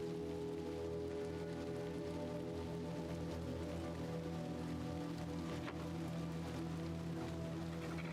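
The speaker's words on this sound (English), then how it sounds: "We're in the rain, so..." Steady rain falls in the dark world of the video game Little Nightmares 2, a continuous soft patter with low droning ambience underneath, even and unbroken throughout.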